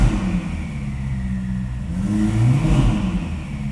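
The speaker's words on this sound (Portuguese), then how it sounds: "Eu começo a escutar aquela cadência típica de um motor V8 com virabrequim plano" A Ferrari SF90 Hybrid's twin-turbo flat-plane-crank V8 revs in a loud, rising and falling engine note with low rumble, heard close and without talk.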